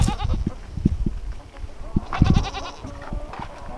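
A goat named Willie with chicken wire tangled on its horns bleats several times in short, wavering cries, near and fairly loud, among rustling and thumps on a farm.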